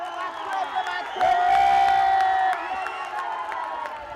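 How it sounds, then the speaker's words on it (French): A roadside crowd in Rwanda cheers cyclists racing through during the Tour du Rwanda, a lively mix of shouting, whoops and high-pitched cries that swells to a loud peak and then eases. "encouragé par une foule en liesse"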